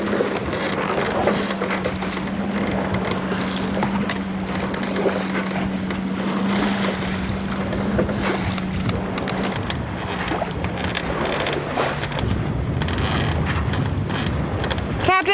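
Sailboat under way near the British Virgin Islands with a dinghy towed behind, a constant rush of water and wind buffeting the microphone, with a steady motor hum and occasional faint voices.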